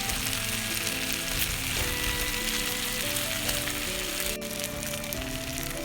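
Beef and onions stir-fry in a pan with a constant, close crackling sizzle and a spattering hiss that carries on without letup, and nobody speaks.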